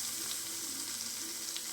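Chopped onion dropped into hot oil crackles into a steady, close sizzle that holds evenly throughout with no voices.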